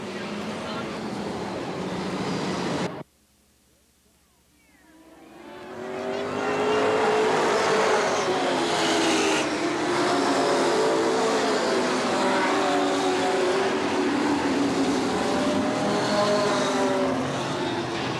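Race cars roar around the Eugene Speedway oval during a 1990 race, a loud engine drone that cuts out briefly then swells back as the pack comes by, with an announcer talking over it.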